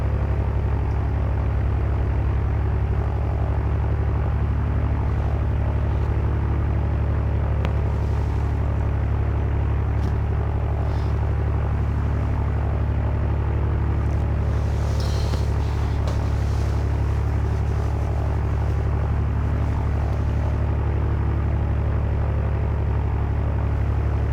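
Steady piston propeller drone of a Carenado F33A Bonanza taxiing in X-Plane, a loud, unbroken engine hum at low power with faint, brief clicks and shifts over it.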